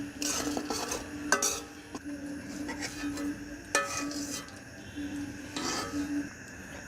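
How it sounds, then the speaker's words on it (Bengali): Fried dried fish being stirred and lifted out of oil in a wok, with irregular metallic clinks and scrapes of a utensil against the pan over a low background hum. "এখন আমি আর একটু নেড়ে চেড়ে উঠিয়ে নিচ্ছি তেল ছাড়িয়ে"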